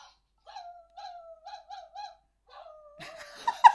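A WowWee Dog-E robot dog sings a short electronic melody of cooing, owl-like synthetic tones in a steady series, then ends with a brief burst of noisy sound.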